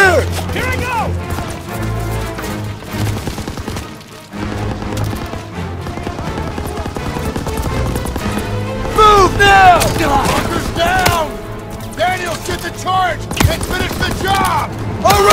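Machine gun fire and rifle shots crackle through a Call of Duty WWII firefight, with steady bursts and booms under constant shouting from soldiers across the whole stretch.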